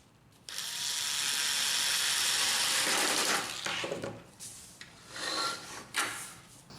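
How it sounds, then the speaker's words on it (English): A screw is driven into a Brother laser printer drum unit during a rebuild, a sustained, close, high buzzing drive lasting about three seconds before tapering into uneven, scraping bursts; no one speaks. "Insert the first screw."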